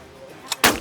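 A single loud shotgun blast rings out during a dove hunt, sharp and close, following a fainter pop moments earlier, with a brief echo trailing off.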